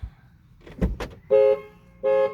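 A Ford Courier car horn gives two short warning blasts after a couple of soft clunks as a door is opened by its handle, close by with no talking.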